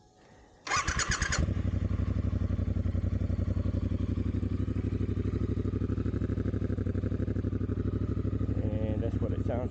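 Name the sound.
Triumph Bonneville Speedmaster motorcycle, Dr. Jekill & Mr. Hyde exhaust closed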